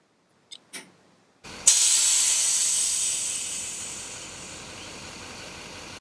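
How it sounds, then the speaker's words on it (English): Air suspension airbags on an '06 Chevy Duramax truck releasing air in a strong, steady close hiss that starts abruptly after a couple of short clicks and slowly fades over several seconds. "The other one will release air from the bags and drop the back of the truck down."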